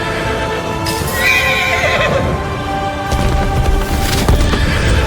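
A horse in the Where Winds Meet game whinnies loudly while its hooves clip-clop steadily underneath, with a dull impact and a second neigh toward the end.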